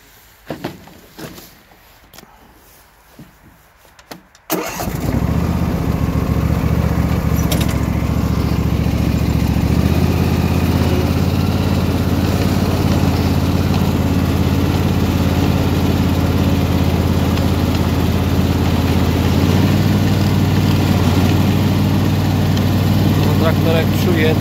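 A small Simplicity garden tractor engine starts up a few seconds in and then runs steadily and loudly at close range, a constant mechanical drone.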